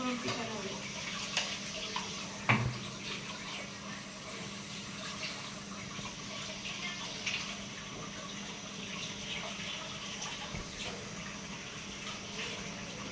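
Chicken is washed under a running tap, a steady faint rush of water with occasional clunks and splashes, as someone talks nearby.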